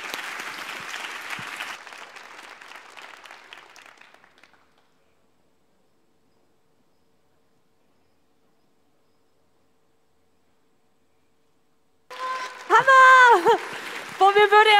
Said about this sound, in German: Ein Riesenapplaus jetzt also nochmal für Tasa